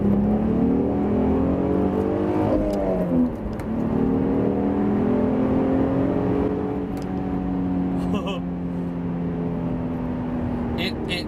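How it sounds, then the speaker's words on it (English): A car accelerates hard in third gear almost to redline, its engine note climbing steadily in a loud, close, sustained pull, with a brief dip and a second rising sweep. "That was 3rd gear pull, almost all the way to red line."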